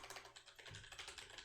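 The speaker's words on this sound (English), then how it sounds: "I'm typing the answers" Fast, continuous typing on a computer keyboard during a live stream, a dense run of close, crisp key clicks with no voice.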